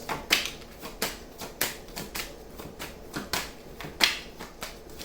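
Tarot cards are shuffled up close in a quiet room, making a series of crisp, rhythmic riffling snaps and slaps at regular intervals, with no talking.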